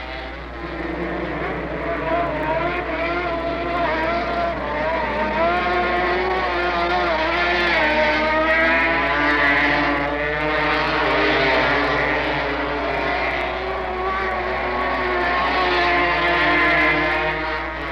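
Yamaha racing motorcycles scream around a race track in 1971, a sustained, harmonic engine wail that rises and wavers as two bikes run close together, heard steadily over a low hum.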